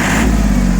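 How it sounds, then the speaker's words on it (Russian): Iseki TA317 Japanese compact tractor crawling in low gear, a loud, steady diesel drone close by with a deep even hum and no voices. "Тракторок вот так ползет."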